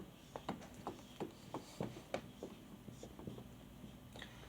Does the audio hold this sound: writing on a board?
yes